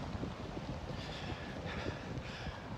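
Outdoor wind buffets the microphone in a constant low, rumbling roar with gusty surges, faint and steady and free of speech.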